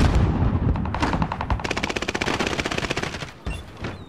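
Rapid automatic gunfire in the Call of Duty: Modern Warfare video game, rattling off as a dense, loud, rhythmic burst of shots for several seconds and then dropping away, with no talk over it.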